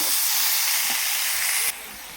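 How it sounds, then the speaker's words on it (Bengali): Paste of cumin, mustard and ginger frying in a pan, a steady bright sizzle that drops suddenly near the end, close and alone. "ভালোভাবে একটু কষিয়ে নেব।"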